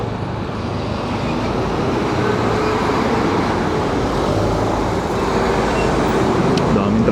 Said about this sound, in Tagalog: Daming truck dito, nakakatakot.